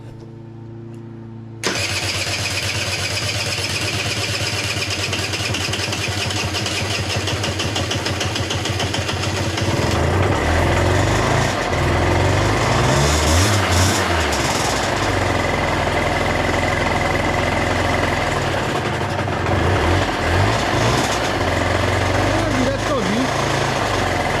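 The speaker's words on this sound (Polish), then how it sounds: "myślę, że ten silnik to bardzo hałasuje." A loud motorcycle engine, an AM6 on a KSR bike, starts with a sudden burst and keeps running steadily at close range on a lift, a rough mechanical drone with a shifting, rattling texture.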